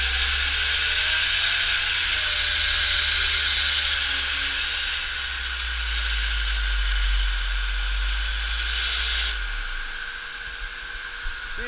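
A Grizzly belt grinder rounds and smooths the center pieces of metal pickets held in a fixture, giving a loud, steady high-pitched abrasive whine with a low motor hum, easing briefly near the end.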